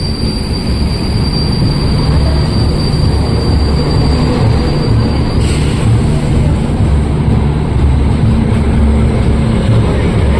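A passenger train bound from KSR Bengaluru to Arsikere stands at a station platform, its loud continuous rumble and engine drone filling the scene with a steady high whine above.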